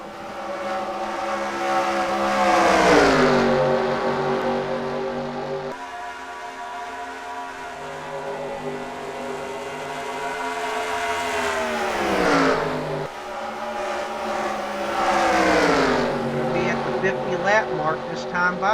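Race cars roar past on the SSSR Atlanta track, loud engine notes sweeping down in pitch as each pass fades, recurring in waves with a steady motor drone between, under a commentator's voice.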